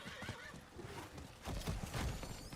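A horse whinnies and neighs during a ride in Diablo 4, with clip-clop hoofbeats growing louder and busier in the second half, close and fairly quiet.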